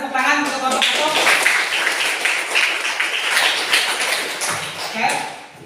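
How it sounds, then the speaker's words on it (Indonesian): Students in a classroom teaching-practice session clap for a winning group, a dense, steady burst of many hands held close and loud for several seconds, with a few sharper taps on top. "silakan tepuk tangan untuk kelompok 1"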